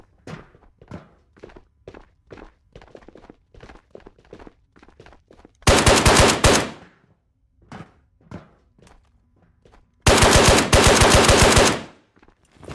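Two sustained bursts of SKS rifle fire in the virtual-reality shooter Ghosts of Tabor, each a loud, rapid string of shots lasting about two seconds, separated by quieter thumping footsteps and handling clunks.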